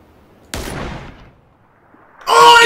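Gunfire in PUBG: one sharp, loud shot with a decaying tail, a short lull, then another loud burst of gunfire near the end.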